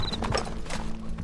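Horses' hooves clip-clop in a rapid, uneven patter during a medieval battle in the Stronghold Legends King Arthur strategy game, with a brief whinny and a faint high whistle at the start, fairly close and continuous.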